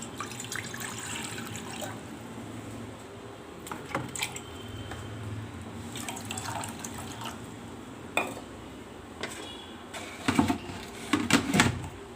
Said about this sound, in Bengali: চলো রান্নাঘরে চলে এসেছি। এবার জল দিই।